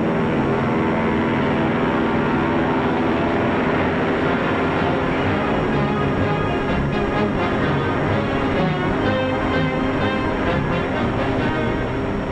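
A Lockheed P-38 military fighter plane flies with a loud, steady, continuous engine roar that stays full and unbroken throughout, with no voices over it.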